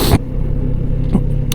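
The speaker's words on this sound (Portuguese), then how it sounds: "Este motor 4 cilindros." A Kawasaki Z900RS SE four-cylinder motorcycle engine rumbles steadily at close range for about a second and a half, with a brief louder burst at the start and another short swell near the end.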